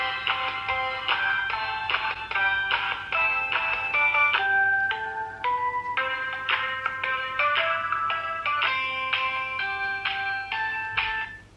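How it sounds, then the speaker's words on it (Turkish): A karaoke microphone plays its built-in electronic tune, a bright steady melody of simple synthetic tones over a faint low hum, continuous for about twelve seconds with no talking. "Şimdi bir müzik çalıyor bu arkadaş."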